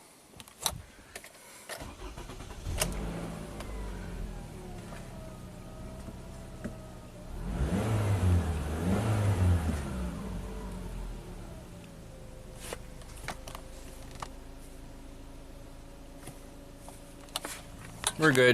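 A Toyota Camry repaired for a P0013 VVT fault starts and runs on a test drive, its engine rising from a quiet start into a louder mid-clip surge, with brief spoken words and small cabin clicks around it.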